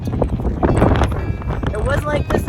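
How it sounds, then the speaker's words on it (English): Strong gusting wind of around 40 miles per hour sweeps across the Great Sand Dunes, roaring loudly into the microphone throughout, with voices talking over the buffeting. "You probably can't hear us over the wind."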